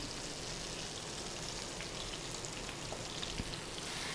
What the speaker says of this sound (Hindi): कलेजी को भी तवे पे 2 से 3 मिनट तक मैं भून लूँगी।